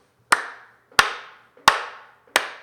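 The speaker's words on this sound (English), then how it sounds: "we'll clap on the beat" A group claps together on the beat in a children's movement rhyme activity: four sharp, evenly spaced claps about two-thirds of a second apart, each ringing briefly in a small room, with no voices between them.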